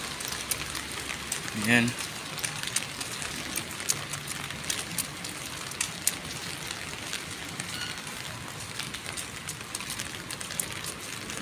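Steady light rain pattering outdoors while someone walks, a constant hissing wash with scattered drop taps and a brief voice early on.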